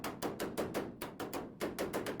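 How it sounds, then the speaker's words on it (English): Hammer and dolly shaping a patch of 18 gauge car body sheet metal, a steady run of sharp metallic blows, about three to four per second, close and clear with short pauses between bursts. "Taking our time to hammer and dolly everything really nicely in place."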